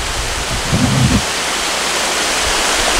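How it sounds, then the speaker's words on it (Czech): Waterfalls tumble down on New Zealand's North Island in the Waikato, a loud steady roar of falling water heard from nearby, constant and unbroken, with a brief low thump near the start. "Támhle takhle spadají ty vodopády dolů."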